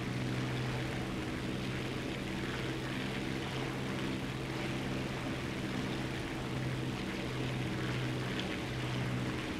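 A Polikarpov I-15 M-22 propeller fighter in the game War Thunder drones steadily in flight, a constant engine and airscrew hum with no talk.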